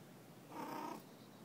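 Thirteen-year-old cat giving a soft, close rumbling purr that swells briefly and fades, quiet and alone with no talking.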